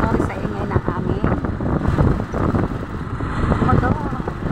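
Motorcycle engine droning while riding on a road in San Francisco, Bulacan, with heavy wind buffeting the microphone and a rider talking over the steady rumble.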